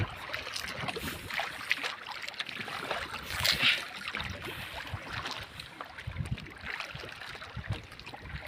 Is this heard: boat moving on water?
yes